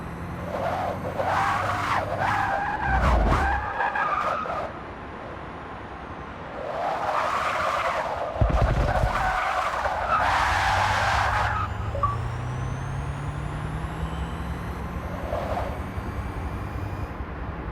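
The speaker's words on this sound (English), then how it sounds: "if you can take that sound of the tire screeches, sound kind of weird" Racing cars in Forza Motorsport 6 skid with long, wavering tire screeches in repeated bursts over a constant engine roar, with a couple of heavier low thumps along the way.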